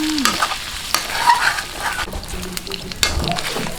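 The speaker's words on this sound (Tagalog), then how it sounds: "ganyan lang po yung ating gagawing pagpiprito" Pork frying in a pan for Filipino binagoongan crackles and sizzles steadily up close, with scraping and stirring strokes throughout and a few brief clatters.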